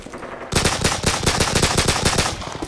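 Rapid bursts of automatic gunfire from Call of Duty 4, a MAC weapon firing in a steady stuttering rhythm after a brief quiet start, loud and close with no talk.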